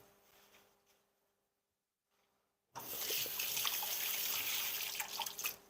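After a quiet moment, a sink tap is turned on and water gushes steadily into the basin to wash tomatoes, close and fairly soft, with splashy variations and no talking.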